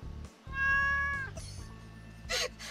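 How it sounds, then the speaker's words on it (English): A cat in the farming game Stardew Valley lets out one clear, drawn-out meow, close and distinct, followed by a brief shorter chirp. "Flareon does a meow!"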